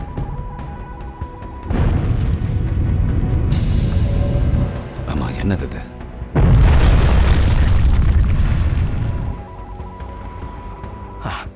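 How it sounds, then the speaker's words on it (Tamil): A bomb detonates as a movie explosion effect, a loud booming blast that comes in two heavy surges with a brief lull between them, while a voice speaks over the rumble. "இப்ப இத வெடிக்க வைக்கிறேன்"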